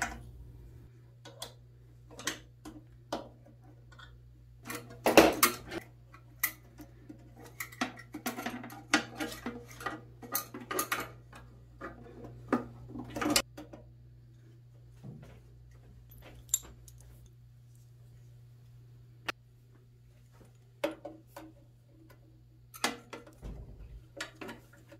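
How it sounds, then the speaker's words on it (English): A socket wrench on an extension loosens a 7/16 inch nut on a coin-operated washer's coin mechanism, giving faint scattered metallic clicks and ticks over a low steady hum, close and without talk. "you slide your extension with your socket to your 7/16 inch nut and just break it off with a"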